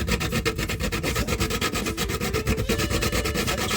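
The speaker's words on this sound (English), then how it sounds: "I'm grating my nutmeg." Nutmeg rasped over a grater for a breakfast oats porridge, a steady rhythmic scraping in quick repeated strokes, close and fairly loud, with no talking.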